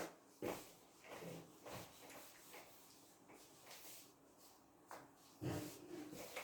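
A wooden block is rubbed by hand across a surface in a physics demonstration, making a series of faint, dry scraping strokes that come in uneven bursts.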